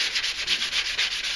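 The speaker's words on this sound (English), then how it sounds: "I'll take one of these sponge sanding blocks" A sponge sanding block rubs along the edges of a Kydex sheath in a steady back-and-forth rhythm, close and continuous, with no voices.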